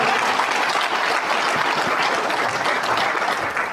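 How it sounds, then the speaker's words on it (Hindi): Audience at a marketing seminar clapping in a loud, continuous burst of many hands, steady from start to finish with no speech over it. "एक बार जोरदार वाली तालियां"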